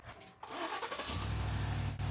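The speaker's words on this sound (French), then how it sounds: "Ça devrait démarrer ma voiture." A GMC Yukon boosted by a Wolfbox jump starter cranks briefly, then catches and settles into a steady, close engine idle with a low, even hum.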